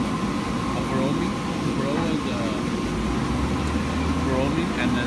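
The vacuum suction on the rolling table of a Yin CNC fabric cutter gives a steady, unbroken blower hum that sits close and fairly loud, with a voice talking over it.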